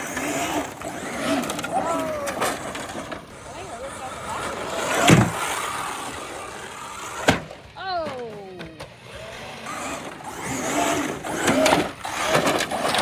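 An Arrma Talion RC truck motor whines and revs after a bad wreck, rising and falling in pitch with sharp clattering knocks, heard outdoors from fairly close under people talking.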